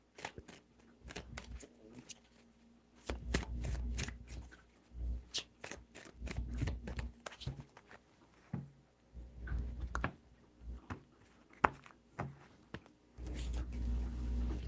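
Tarot cards shuffled in repeated bursts of soft riffling and patter, three rounds separated by pauses, close and fairly quiet, with a voice speaking between shuffles.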